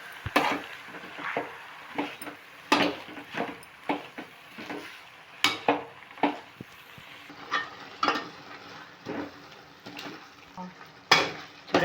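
Spinach leaves fry in a pan while a spatula stirs them, sending sharp scrapes and clinks against the metal at an uneven rhythm over a soft, constant sizzle.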